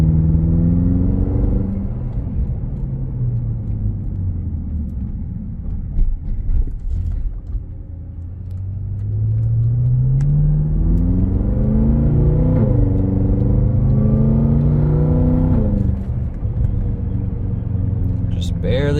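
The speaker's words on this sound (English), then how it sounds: "Just barely getting on it, just enough so you can kind of see those shifts, how smooth they are. Car sounds great." A 2013 BMW M5 in Sakhir Orange Metallic accelerates gently, its engine note climbing steadily through smooth gear shifts, loud and close, with a continuous low rumble beneath.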